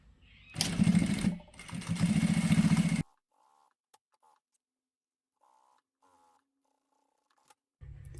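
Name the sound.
sewing machine top stitching vinyl with vinyl foot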